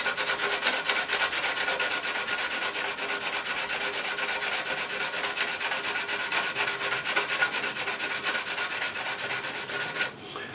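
Steady, continuous sanding of filler on a motor scooter body panel, a dense close abrasive rasp that holds evenly for about ten seconds before cutting off abruptly near the end.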